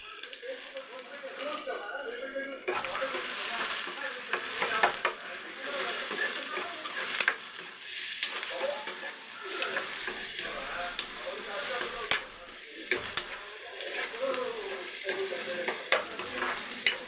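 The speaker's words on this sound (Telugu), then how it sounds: "ఇగో ఆయిల్ వీటెక్కింది. ఆనియన్స్, ఉల్లిపాయలు వేయించుకుందాం." Chopped onions frying and sizzling steadily in hot oil for a chicken curry, with a continuous crackling hiss, occasional stirring, and a voice talking over it.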